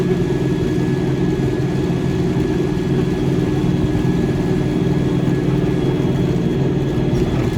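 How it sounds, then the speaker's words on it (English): Steady low rumble of a tractor engine running while haying in spring, loud and continuous with an unbroken hum, no voices. "Tractor's running good."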